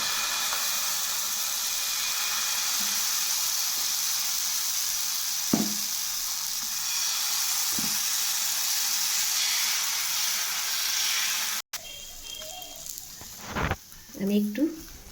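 Oil sizzling on a hot griddle while gola roti cooks, a steady close hiss for several seconds that then cuts off, followed by brief quieter handling noises.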